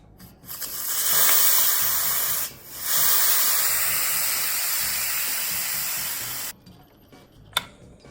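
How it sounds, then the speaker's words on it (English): Loud, steady hissing of steam escaping under pressure from an Instant Pot pressure cooker, briefly interrupted once, then cutting off abruptly near the end, followed by a small click. "I'll take my wooden spoon and I will just go through and release the steam like this"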